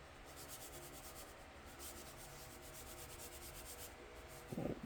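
Hands rub seasoning into a raw hamburger steak with a soft, steady, close brushing sound. The sound runs continuously and fairly quietly, and a brief louder handling noise comes at the very end.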